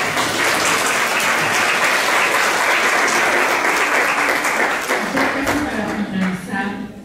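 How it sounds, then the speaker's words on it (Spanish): An audience claps through a sustained, dense round of applause at an academic presentation, loud and steady before thinning out near the end as a voice briefly comes through. "Le damos un aplauso, por favor."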